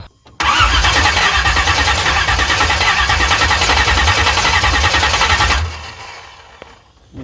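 A 383 engine in a Chevrolet C10, sitting unused for over ten years, cranks hard on the starter for about five seconds with a steady rapid churning roar, loud and close, then cuts off without catching.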